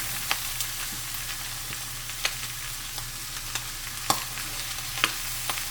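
Homemade country fried corn cooks in grease in a pan, giving a steady low sizzle with scattered sharp pops and light scraping, close by, with no talk.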